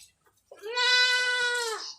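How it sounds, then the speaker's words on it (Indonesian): A stunted goat kid, undersized from too little milk, lets out one long, loud, wavering bleat up close, lasting over a second against a quiet background. "ini kambing kerdil kurang asupan susu."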